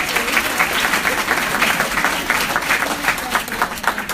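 A crowd at a town hall meeting in Northport breaks into a sustained round of applause, dense clapping that fills the room at fairly close range for several seconds.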